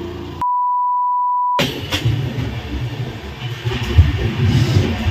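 A train pulling into Howrah station, a steady rumbling roll of wheels and carriages after a short electronic tone, with clanks and muffled station noise.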